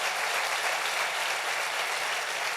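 A church congregation applauds in a steady, even roar of many hands clapping together for a couple of seconds, loud and without talk.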